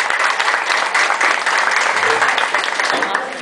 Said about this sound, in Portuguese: Uma salva de palmas pra galera da obra aí, ó.